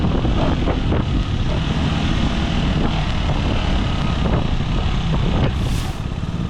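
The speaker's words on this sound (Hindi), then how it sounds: "चलिए और चलाते हैं इस मोटरसाइकिल को, KTM की 390" KTM 390 Enduro R motorcycle ridden off-road over a technical section, a steady loud engine drone mixed with heavy wind buffeting on the microphone, continuous and close throughout.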